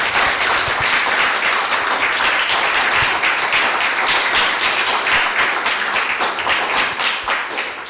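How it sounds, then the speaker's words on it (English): Sustained audience applause for three speakers at a home insulation and green installations event, many hands clapping close and steady with distinct individual claps, tapering slightly near the end. "So a round of applause, please,"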